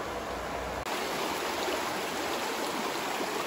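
Even, full rush of the Russian River flowing, a continuous hiss of moving water heard close, with a brief break early on.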